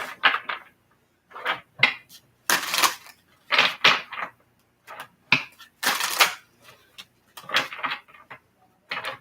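Playing cards being shuffled for a tarot-style reading, a run of dry riffling bursts and flutters in irregular clusters, fairly close and clear with no talk over them.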